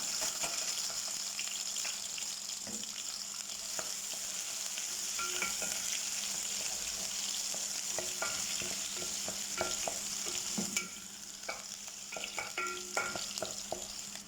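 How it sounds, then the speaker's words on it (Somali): Chopped onion fries in hot oil in a cooking pot, giving a continuous close sizzle with occasional clicks and scrapes from stirring, and no talking. "saliid wax yar kusoo shubtay basalan soo jarjaray hal xabo oo si yar yar u soo jarjaraan ku shubaya"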